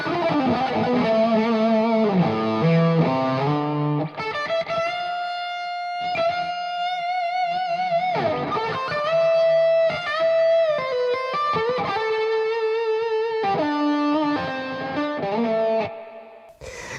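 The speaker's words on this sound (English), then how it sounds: "That's really a soaring lead tone, that." A high-gain electric guitar lead runs through a Bluguitar amp, a distorted, sustained tone with long soaring held notes and melodic runs, loud and close with no voices.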